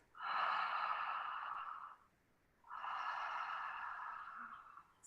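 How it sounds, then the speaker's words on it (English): Deep open-mouthed breathing during a group guided healing session: two long, loud exhalations, each about two seconds, separated by a short pause, close to the microphone with no talking. "breathe deeply, mouth open. Like I should hear it,"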